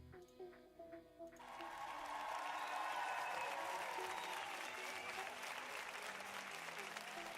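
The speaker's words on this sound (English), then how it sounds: "Let's give Josh a round of applause." A round of applause breaks out after a brief moment of talk and swells into sustained clapping from a group, steady and fairly loud for several seconds.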